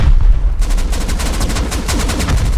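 Rockets fire in the video game Rust, a loud run of rapid booming blasts with heavy low rumble, close and continuous for a couple of seconds.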